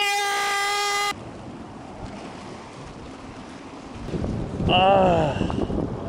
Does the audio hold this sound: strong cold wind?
yes